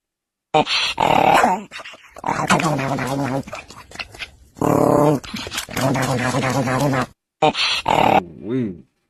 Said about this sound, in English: That dog greedy.